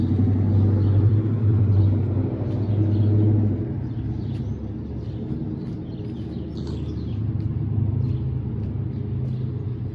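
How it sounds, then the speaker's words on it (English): A car engine idles and rumbles near a pedestrian crosswalk on a city street, a steady low drone that swells early on and then settles, with faint birds chirping in the background. "Engine sounds at the crosswalk."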